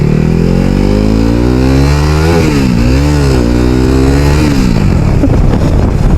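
A KTM RC 390 motorcycle engine and exhaust revving loudly and close, the pitch climbing and dropping through several throttle blips over a steady idle, with no voices.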